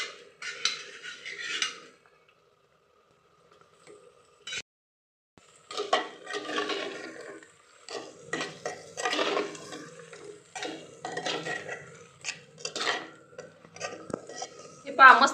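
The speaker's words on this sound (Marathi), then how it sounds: "चिकन तांदूळ दोन्ही पण मिक्स परतून घ्यायचंय वापस" Chicken and rice being stirred and fried together in a pot: scraping of a spoon against the pot in uneven bursts with a soft sizzle, close by, with a quiet pause early on.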